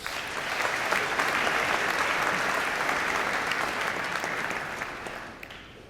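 A hall full of people at a school speech night breaks into sustained, dense applause for a departing staff member, steady and loud for several seconds before tapering off at the end.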